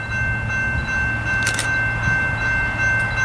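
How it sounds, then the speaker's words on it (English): A Cuyahoga Valley Scenic Railroad (CVSR) train rolls past northbound with a loud, steady low rumble and a sustained tonal hum, a brief high squeal or whistle rising midway, heard close and without talking. "CVSR train 14, mile 450, northbound."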